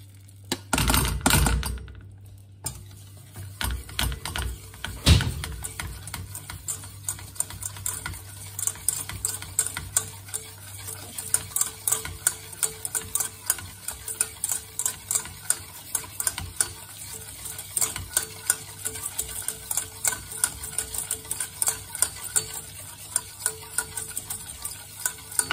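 Sugar stirred into melted butter in a pan off the heat, a spoon scraping and clicking in a quick, steady rhythm, close and fairly quiet, with a soft sizzle underneath.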